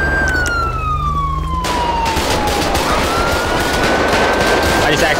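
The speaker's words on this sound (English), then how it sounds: "I accidentally shot the passenger." Rapid gunfire in a police roleplay video game, heard over a loud wailing police siren that sweeps up and down throughout.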